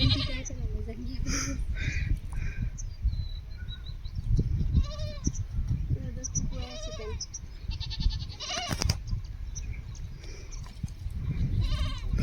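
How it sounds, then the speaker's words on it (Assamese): Goats bleat repeatedly during a family picnic, one of them climbing onto someone's back and tumbling over; the bleats come in short, wavering calls over near, continuous talking. "লিজনী চোৱা ছাগলীটো পিঠিত উঠি পেলাই বাগৰি পৰিলে"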